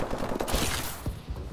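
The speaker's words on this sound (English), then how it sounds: "A lot of gunfight down on over here." Dense, rapid gunfire in a Call of Duty: Advanced Warfare firefight, overlapping bursts and shots crackling continuously at close range with no talk.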